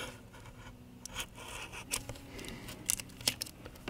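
A scalpel slices through the adhesive under an iPad battery, making faint, close scratchy scraping strokes with a few sharper clicks near the end, quiet against a low background hum.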